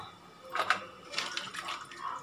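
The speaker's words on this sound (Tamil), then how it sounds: "நல்ல தண்ணியை வச்சு நல்லா அலசணும்" Crab pieces being rinsed by hand in a vessel of fresh water during curry preparation, with irregular sloshing and splashing bursts close by, fairly quiet and with no talk.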